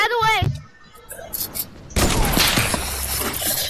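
Rapid game gunfire from a fast-firing weapon bursts in loudly after a brief lull, a dense crackling volley filling the second half, with a voice talking over the opening moments.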